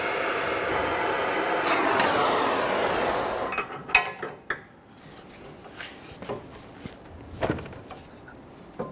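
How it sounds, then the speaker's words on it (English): A heat torch roars steadily against a nylon lock nut on a front sway bar link of a 2010-2019 Ford Taurus, a close broadband hiss for about three and a half seconds before cutting off, followed by scattered metallic clinks and knocks. "We're using heat on our nut here."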